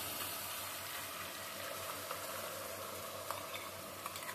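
Onion, garlic and ginger paste fries in hot oil for a Sylheti-style crab curry, giving a steady, fairly quiet sizzle that runs the whole time with a few small pops.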